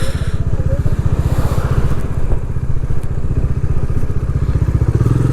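Motorcycles ridden and moved through the parking area at Tiger Point in Lonavala, Maharashtra, with a close, loud single-cylinder engine thumping in a steady rapid beat at idle and low revs, plus faint clatter.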